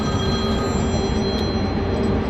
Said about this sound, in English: So there's the phone.